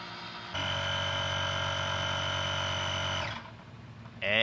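Electric pump inflating a FLATED Air Carrier cargo bag, a steady droning motor whine that holds for about three seconds, then cuts off and leaves quiet.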